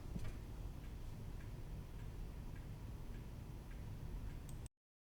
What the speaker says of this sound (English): There's the grandfather clock.